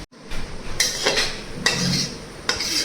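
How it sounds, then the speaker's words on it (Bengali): Thick kalakand sweet mixture is poured and scraped out of a metal pan onto a plate, heard as four distinct metallic scraping strokes with short pauses between them, close and clear. "আমি একটা থালাতেই ঢেলে নেব"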